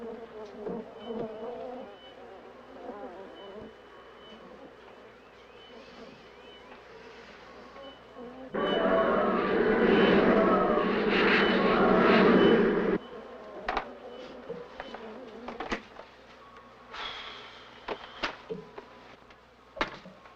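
Swarm of bees buzzing, a faint hum swelling into a loud, dense drone for several seconds before thinning back to scattered buzzes and bursts.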